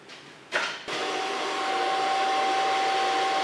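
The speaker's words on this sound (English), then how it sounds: "Start blow drying with a small brush." A handheld hair dryer blowing hair during a short haircut, clicking on with a brief burst, then settling into a loud, steady, close whine with a constant motor tone.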